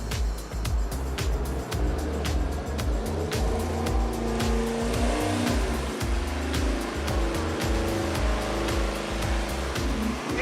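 A Gen III Hemi V8 runs on an engine dyno with long intake runners, making a loud, continuous, rough rumble with pulsing exhaust beats close by.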